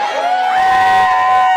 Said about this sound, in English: No need to cheer.